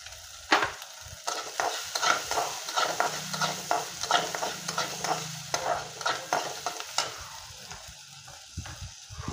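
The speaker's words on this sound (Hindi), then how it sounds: "और हम इसमें डाल देंगे अपना कटा हुआ प्याज, और इसको अच्छे से भूनना है।" Chopped onion with a pinch of turmeric fries in a pan for a semolina breakfast dish. A soft sizzle runs underneath repeated close scraping and stirring strokes of a spoon in an irregular rhythm, with no talking.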